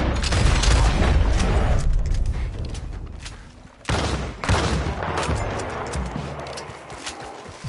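Gunfire in the western video game Red Dead Redemption 2, a loud, dense fusillade of overlapping shots that thins out, then cracks back with fresh bursts and a few rumbling booms.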